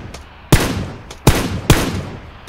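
Three sharp, loud gunshots crack out in PUBG at uneven intervals, each with a short echoing tail, with a fainter distant shot between them and no talking.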